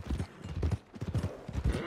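Horse hooves clip-clopping steadily in Red Dead Redemption 2, a close, even rhythm of soft thuds at walking pace, fairly quiet and uninterrupted.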